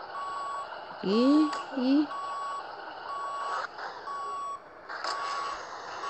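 In Grand Truck Simulator 2, a truck's reversing alarm beeps steadily and evenly while it is maneuvered to hitch a trailer, a thin regular pulse under a low engine hum, with someone speaking briefly and other game sounds over it.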